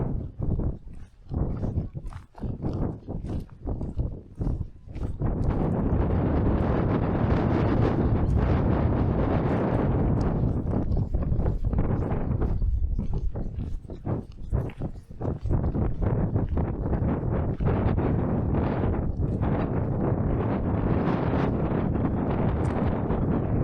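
Strong wind buffets the microphone on the Icelandic coast, gusting hard and roaring almost continuously, with sharp bursts of wind noise early on.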